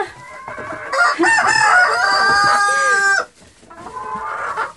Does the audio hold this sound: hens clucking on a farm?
yes